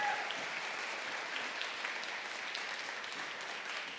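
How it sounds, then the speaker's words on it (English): Sustained clapping from a concert audience after a Broadway-themed choral performance by children's and women's choirs, an even, dense wash of many hands held at a steady level throughout. "another round of applause."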